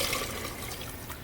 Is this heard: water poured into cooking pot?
yes